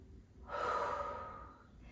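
One slow, breathy exhale during yoga, kneeling after a downward dog, soft and close, rising and fading over about a second.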